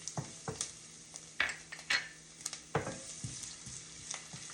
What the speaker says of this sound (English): I'm going to add this one small onion